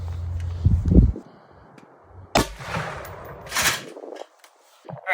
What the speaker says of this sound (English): We'll shoot the 62 TCX now.